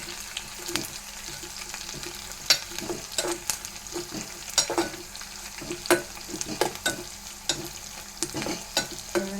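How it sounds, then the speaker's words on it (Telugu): Dried red chillies and curry leaves fry in hot oil, a soft steady sizzle broken by repeated sharp scrapes and clinks of a spoon stirring the pan, close and fairly quiet, with no talking. "ఎండుమిరపకాయలు, కరివేపాకు వేసి వేసుకోవాలి."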